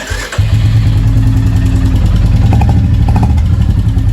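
A Royal Enfield Classic 350 motorcycle engine cranks briefly and catches, then settles into a loud, steady idle with a rhythmic low putter, up close.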